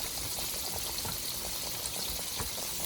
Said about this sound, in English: Our fish is frying here.